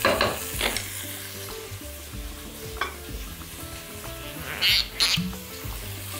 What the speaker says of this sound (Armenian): տապակում ենք այնքան, մինչև մսակտորները կարմրեն